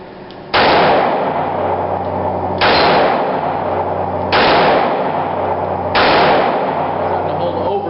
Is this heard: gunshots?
yes